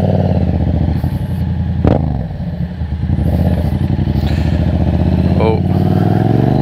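Yamaha FZ-07 motorcycle pulling away, its engine droning steadily and loud close by with a brief clatter near the start as it sets off, people talking over it.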